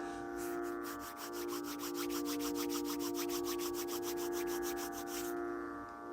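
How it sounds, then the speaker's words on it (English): Palms rub together in quick, even strokes, a rhythmic brushing swish repeated many times over a soft, sustained musical drone. "Rub your palms together to create a warmth."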